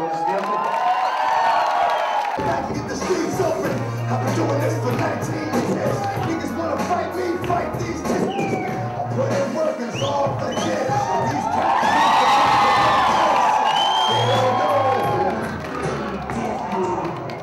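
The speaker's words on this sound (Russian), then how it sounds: "Ваши аплодисменты." Club audience at a 2006 party night cheering and shouting with scattered applause after a dance troupe's introduction, a dense continuous crowd roar swelling louder toward the end, with music tones and a voice mixed in.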